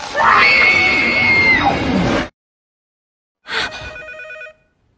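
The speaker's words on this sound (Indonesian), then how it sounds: "Lalu Rika yang tertidur pun terbangun karena suara telepon." A telephone rings in a tense scene from a Japanese horror film about a haunted house, sounding as a loud shrill burst with raised voices, then silence, then a shorter electronic ring.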